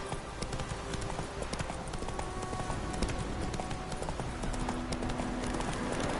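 In The Witcher 3 video game, a horse sets off at a brisk pace, its hoofbeats clip-clopping in a steady, continuous rhythm over faint ambient background.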